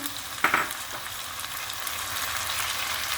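Okra and tomato sauté in a pan with a steady sizzle, close and continuous, with a brief clatter of stirring near the start.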